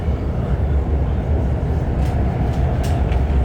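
A freight train carrying auto racks rolls past directly below the listening point, a steady, loud, continuous rumble and rattle of railcars with no voices.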